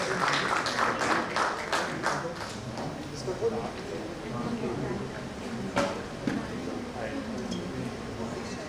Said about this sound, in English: Can we please have a huge round of applause for all of them once?